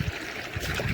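Irrigation water runs steadily into a vegetable plot on a farm, a soft continuous trickle with low gurgles, close and fairly quiet, with no voices.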